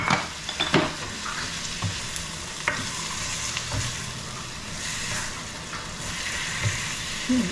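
Garlic and onion sauté in a hot pan, with a steady sizzle and fry running throughout and repeated scraping stirs of a utensil against the pan.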